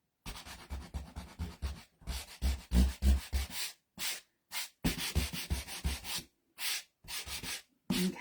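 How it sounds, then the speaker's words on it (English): Rhythmic rasping strokes of hand sanding on wood, quick back-and-forth rubs in short bursts with brief pauses between, close and clear. "so I'm going to stick with sanding"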